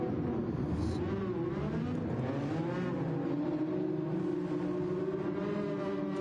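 Race car engines idle and rev together on the starting grid in Gran Turismo 7, a dense close drone of layered engine tones with pitches rising and falling in overlapping sweeps.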